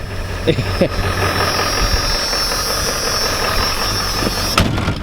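A Ford F-250 or F-350 with a 7.3L diesel engine idles loudly and steadily up close, with a low, rough clatter and a thin high whine running throughout, along with a few short knocks.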